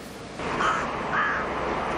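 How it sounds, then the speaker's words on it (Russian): Rooks caw in early spring in a park or city square, two harsh calls spaced about half a second apart over steady outdoor background noise, moderately close. "Еще один предвестник весны – грачи прилетели."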